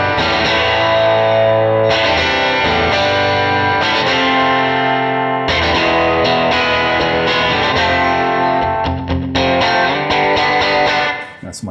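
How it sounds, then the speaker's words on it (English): An electric guitar is played through a compressor, a Bassman amp model and low tape echo, giving a raspy, punchy sound. Several strummed chords ring out in turn, loud and close, with no talking. "It's the compressor, the bassman, and the tape echo down really low on the reverb."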